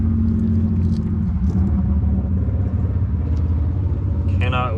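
Steady low traffic rumble from passing cars and motor vehicles fills the whole stretch, loud and continuous, with a few brief mid-range bursts on top.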